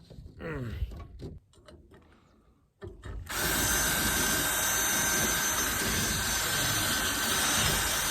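Power drill boring through solid steel on a van, starting with a few short bursts and pauses, then a loud continuous high-pitched grinding whine held steadily close by.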